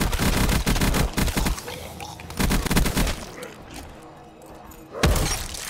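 Bursts of gunfire from a Call of Duty Zombies game, loud rapid volleys in the opening seconds, then a gap and another short, sharp burst near the end, with no talking.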